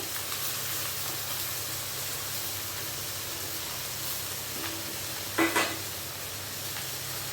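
Grated bottle gourd going into a pan of frying prawns in a lau chingri curry, giving a steady close sizzle with a brief stirring clatter partway through and no talking.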